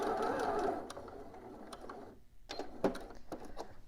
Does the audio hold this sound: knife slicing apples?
no